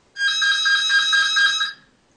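A phone rings steadily with a bright electronic trill for nearly two seconds, loud and close, pulsing in rapid repeated beats before cutting off during a talk on security and peace.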